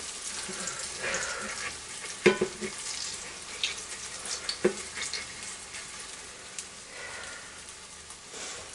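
Hoe cakes sizzle and fry in a hot pan, a steady crackling hiss with a couple of sharp clatters from a utensil, the frying continuing at a moderate level throughout.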